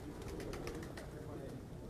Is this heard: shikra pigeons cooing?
yes